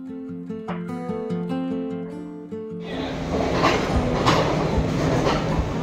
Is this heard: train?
yes